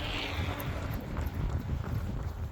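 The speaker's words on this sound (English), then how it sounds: "So I can feel the wind going through my ears" Steady wind rushing past during a run along Montana Route 1, a continuous broadband buffeting roar close to the microphone with no talk.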